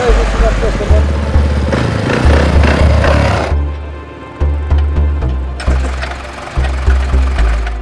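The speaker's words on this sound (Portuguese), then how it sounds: "Deixa eu ver se vai esta moto." A motorcycle on an expedition across Mauritania toward Mali is being push-started, its engine sputtering and firing in loud, rhythmic bursts that cut out briefly and then catch again up close.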